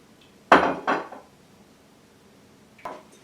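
Dishes and utensils clattering during kitchen cleanup, two close sharp clanks in quick succession followed by a softer knock a couple of seconds later.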